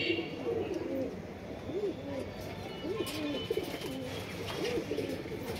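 Pigeons coo steadily in a pigeon house, soft repeated rolling calls close by, with someone talking over them throughout.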